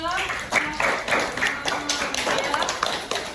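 Classmates in a school classroom give a scattered round of clapping for a student group, uneven bursts of hands with people talking over and between them.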